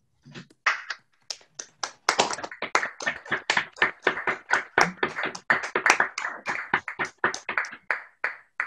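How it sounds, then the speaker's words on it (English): Sparse individual clapping builds into a steady run of close, sharp hand claps from a small lecture audience, with no talking. "give Jim another round of applause for a great talk"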